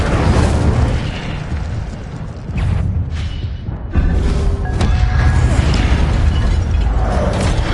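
Fiery spell bursts in Hogwarts Legacy gameplay, loud continuous roaring blasts with layered crackle and whooshes, dense game effects and score filling the whole stretch with a brief dip midway.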